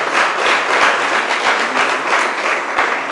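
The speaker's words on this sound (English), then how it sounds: "so give them a lusty round of applause for that." An audience at a civic awards ceremony with the mayor present gives a round of applause, a close, fairly loud wash of clapping that swells and eases in waves for a few seconds without speech.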